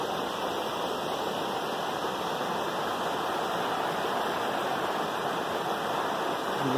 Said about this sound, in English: It's a low water dam.